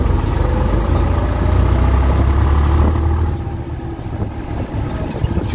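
A 2014 New Holland TT55 tractor engine runs with a low, steady rumble close by, easing slightly toward the end without any talk.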